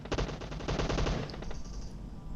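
Automatic weapon fire in a PUBG Mobile match, a rapid close burst of shots in quick rhythm lasting about a second, followed by a few scattered shots and fading noise.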